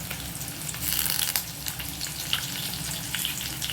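Onion pieces and curry leaves sizzle steadily in hot oil in a home kitchen pan, a continuous close crackling fry with a few sharper pops and no talking.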